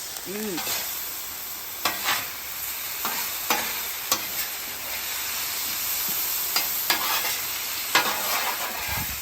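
A constant sizzling hiss of garlic frying on a hot Blackstone griddle, broken by periodic scraping and tapping of a utensil stirring.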